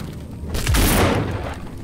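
A grenade blast in the zombie shooter Back 4 Blood: one deep, booming explosion that swells and slowly fades over about a second, loud and close, with no talk.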